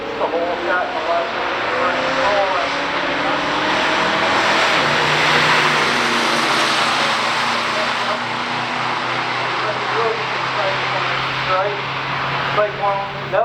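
Two muscle cars, a 1968 Mercury Cougar GT-E with a 351 and a 1970 Mercury Cyclone, launch side by side in a stock drag race, engines roaring steadily for several seconds under a commentator's continuous talk.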